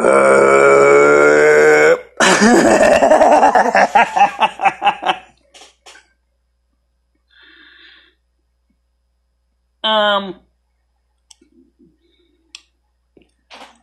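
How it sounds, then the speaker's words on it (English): A long, loud, rumbling belch drags on for several seconds, then after a pause a shorter second burp follows. "He's going to hear a belch"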